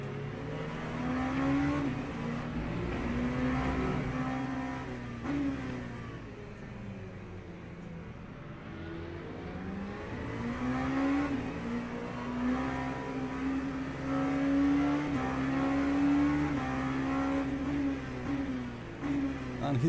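Several race cars of different classes, LMP3, GT3 and LMP2 prototypes, accelerate along a circuit, engines droning and rising steadily in pitch, loud and close for the whole stretch with a continuous roar.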